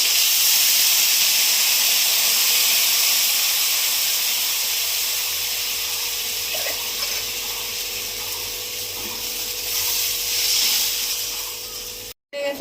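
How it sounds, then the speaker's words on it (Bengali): Loud steam hisses and sizzles from a hot pan after water goes into a potato and pointed gourd curry, a continuous close rushing sound that slowly eases before cutting off. "এবার দেবো জল"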